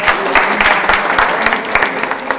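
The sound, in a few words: loud applause from audience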